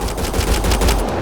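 Rapid automatic gunfire in a Mass Effect: Andromeda firefight, a loud, dense burst of repeated shots running continuously with no voices over it.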